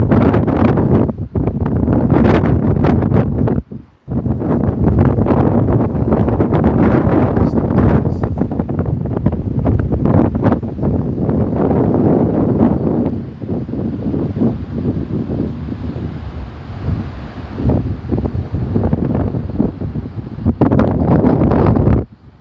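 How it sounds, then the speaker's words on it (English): Strong wind on a blustery day in northern Sweden buffets the microphone in loud, continuous gusts, briefly dropping away once and easing slightly in the middle, with no voices. "It's just a windy day here in northern Sweden."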